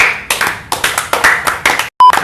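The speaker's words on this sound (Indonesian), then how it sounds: "Tepuk tangan." Podcast audience clapping, a few hands giving short bursts of separate, crisp claps in an uneven rhythm, with one brief gap and a sharp tone near the end.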